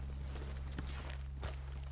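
Horse hooves in Red Dead Redemption 2, a few soft clip-clop steps over a steady low hum, faint and brief, no talk.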